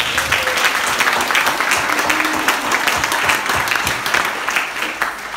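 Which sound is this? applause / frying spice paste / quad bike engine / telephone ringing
applause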